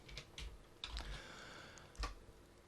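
Fingers tap on a computer keyboard in a few scattered, soft clicks and short bursts, close by and quiet with no talking.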